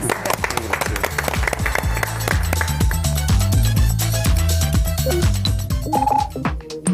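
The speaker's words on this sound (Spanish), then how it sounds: "Un aplauso para ustedes." An audience at a televised Mexican health program breaks into dense, sustained applause, a continuous wash of many hands clapping with no speech over it.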